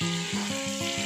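Boiled potatoes drop into a hot pan with eggplant, giving a loud, continuous close sizzle with bubbling crackle throughout the short stretch.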